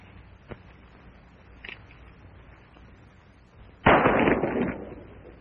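An old gun fires in a range setting: a single sharp report, a fainter second pop, then a louder blast with a rolling, crackling tail.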